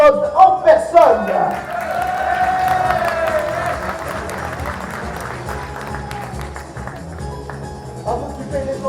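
Applause and cheering from a conference audience, loud bursts at the start, then a sustained crowd roar with clapping and a held vocal tone, gradually easing.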